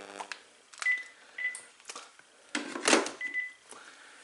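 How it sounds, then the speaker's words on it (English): A Panasonic KX-TG5243 cordless phone handset sounds its intercom tones: short electronic beeps and brief tonal chirps, a few steady held notes among quieter clicks, close and clear with no talking. "Just trying to test out the intercom feature between the first and second handset of the KX-TG5243"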